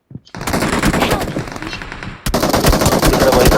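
Rapid automatic gunfire in a video game, loud and close, with a brief pause before another sustained burst of rattling shots.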